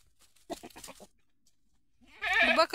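Close goat bleats in a farm shed holding local and Osmanabadi breed goats: a short burst of faint stuttering bleats is followed after a pause by one long, loud, quavering bleat near the listener.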